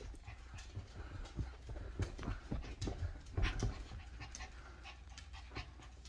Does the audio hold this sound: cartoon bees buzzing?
no